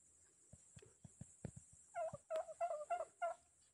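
A farm turkey gobbles in a quick burst of several rapid warbling calls near the end, preceded by a few sharp knocks and thumps, fairly faint and with no talk.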